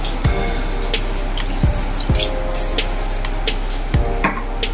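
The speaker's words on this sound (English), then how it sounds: "In this process, I'm going to add a little bit of water." Water pours steadily into a pot of simmering pumpkin soup, a continuous splashing rush with occasional drips and bubbling, loud and close with no voices.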